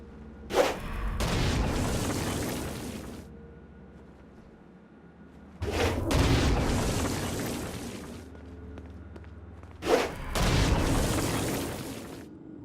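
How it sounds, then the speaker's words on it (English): Three heavy Stone Blast explosions in Saints Row: Gat out of Hell, each a sharp loud boom followed by a long rumbling roar, spaced several seconds apart with near silence between. "Stone Blast is especially useful on flying demons like this one."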